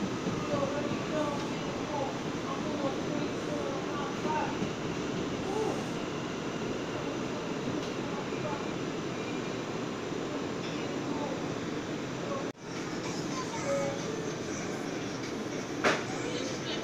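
An R179 J subway train rides through the New York subway at night near Broadway Junction, a steady loud rumble and rattle of the car running on the track, with a sharp jolt partway through and a voice speaking faintly over it.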